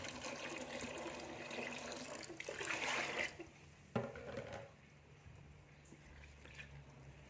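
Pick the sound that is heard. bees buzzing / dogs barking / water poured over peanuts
water poured over peanuts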